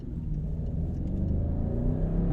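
A BMW X6 50i V8 revs briefly with a blip of throttle, a steady low rumble held close and fairly loud without speech.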